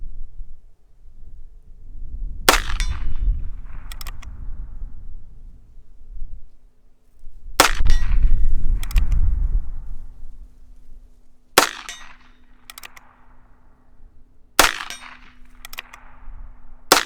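Rifle shots from a scoped Heritage Rough Rider Rancher ring off a steel target in four distinct bursts, each sharp crack followed by a metallic clang a moment later, spaced a few seconds apart outdoors.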